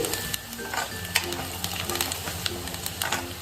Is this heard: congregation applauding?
no